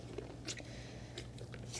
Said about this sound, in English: He's crunching on them.